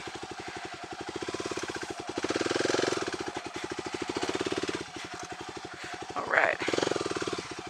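A motorcycle engine running close by, a rapid rough pulsing putter that swells and eases as the throttle changes, with a brief voice and a sharp clatter near the end.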